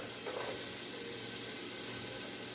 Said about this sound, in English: we're going to start off by sauteing our mirepoix to get that base layer of flavor that makes soup so good